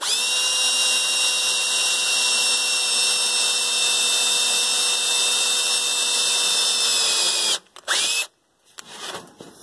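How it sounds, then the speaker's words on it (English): A power drill bores pilot holes into a steel hand truck being converted into a trailer dolly, giving a loud, steady, close whine for about seven and a half seconds before cutting off, followed by brief clattering handling noise. "it's always nice to make drilling as easy on yourself as you can"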